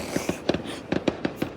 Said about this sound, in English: These fireworks are interrupting my YouTube video here.